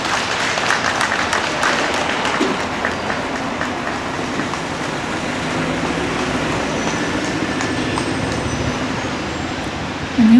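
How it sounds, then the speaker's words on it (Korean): An audience at a memorial ceremony for COVID vaccine victims applauds warmly, a dense, even wash of clapping that continues steadily for about ten seconds before a voice begins at the end. "여러분 따뜻한 박수로 환영해 주시면 감사드리겠습니다."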